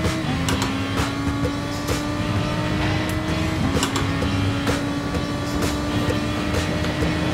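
A Red Bull X2014 race car in Gran Turismo Sport revs hard, its high engine whine rising in pitch through repeated gear shifts, steady and loud under quick clicking taps.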